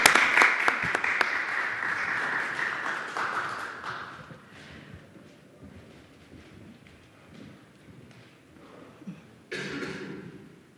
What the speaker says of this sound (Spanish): demos un aplauso a Carolina Torrejón, que es nuestra maestra en este caso